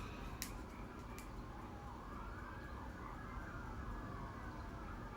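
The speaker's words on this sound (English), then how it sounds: "Oh no, you guys can hear the sirens." A distant siren wails faintly, rising and falling beneath steady background noise, with a couple of brief clicks early on.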